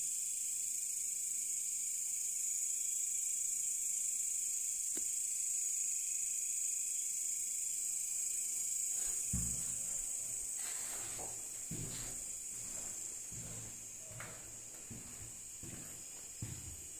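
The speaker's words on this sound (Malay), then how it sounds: "Bunyi cengkerik yang kuat di sini." Crickets at The Gap on Fraser's Hill, a loud continuous high shrill chirring throughout, with footsteps and knocks joining in the second half.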